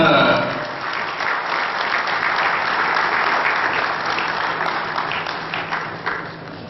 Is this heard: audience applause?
yes